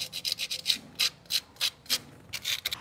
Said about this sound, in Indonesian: bisa bersihkan menggunakan amplas seperti ini ya